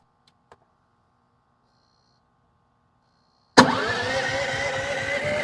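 After near silence with a faint click, a Gidrox 11,000 watt generator abruptly fires up and settles into a steady, moderately loud engine drone that runs to the end.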